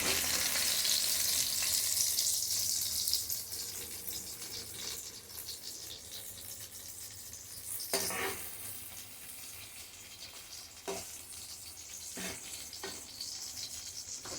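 Fried milkfish (bangus) sizzling in a pan for breakfast, a steady close hiss with occasional louder spatters and clinks, no talking.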